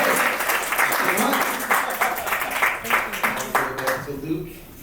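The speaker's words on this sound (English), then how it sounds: "can we give a round of applause?" An audience at an evening panel discussion on aging at a Chicago innovation event breaks into a round of applause, a dense stretch of many hands clapping close by that thins out toward the end.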